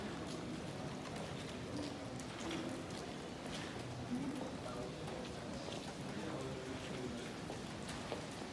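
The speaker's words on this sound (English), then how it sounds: "unfortunately it's raining and I cannot keep filming a lot because of the rain" Steady outdoor rain falls in the Gothic city of Rouen, a continuous soft hiss of drops on surfaces at an even, moderate level with no breaks.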